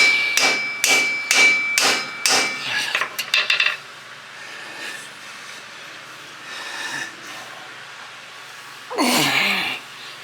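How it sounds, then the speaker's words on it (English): Rapid metallic hammer taps ring out in a quick series as a car part is tapped into place, then scattered knocks, a pause, and one louder clang near the end. "Let's try to tap it all the way on."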